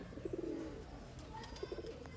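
A pair of Andhra pigeons coos nearby, two short runs of low, rolling pulsed coos separated by a brief pause over quiet background noise.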